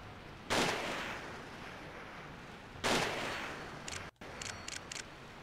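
Two heavy gunshots in a PS2 video game, about two seconds apart, each a loud, booming blast with a long echoing tail over a steady hiss, followed by a few softer clicks.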